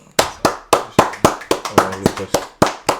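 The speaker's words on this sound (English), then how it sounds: "I think we deserve to give Josh a clap." A small group claps for a football pundit on a sports talk show, about a dozen sharp, loud, separate claps at an uneven rhythm with no voices.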